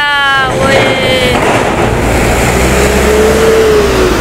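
A loud rumbling bus passes close by at Merak port, engine droning with a low whine, and a voice can be heard under the noise.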